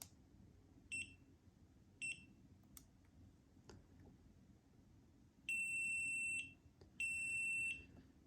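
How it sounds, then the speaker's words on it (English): An electronic alarm on a Mazda Miata NC multi-gauge display gives a few short beeps, then two longer sustained high-pitched tones, clear and close over a low background hum. "holding the button down until you hear 1 beep"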